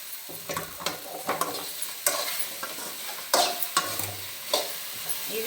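Raw okra fries in a pan with a light, dry sizzle, punctuated by irregular scraping stirs and spatula taps against the metal. The sound is close and unaccompanied by talk.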